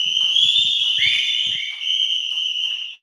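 Church congregation whistling, piercing sustained high whistles from several people layered together, loud and held for about three seconds, with brief low murmuring voices underneath at the start.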